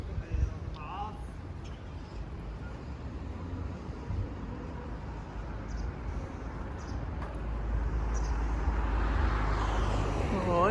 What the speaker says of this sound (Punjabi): ਜਹਾਜ਼ ਜਾਂਦਾ ਪਿਆ